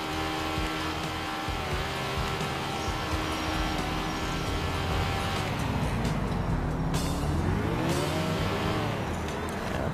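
A car engine in the video game GTA IV revs and drones steadily and loudly for the whole stretch, with its pitch rising and falling as the vehicle speeds up and slows down.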